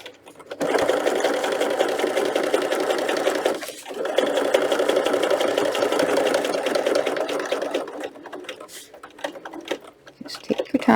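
A sewing machine stitches steadily through a custom fabric book protector, running continuously for several seconds, pausing briefly, then resuming before slowing to intermittent stitches near the end.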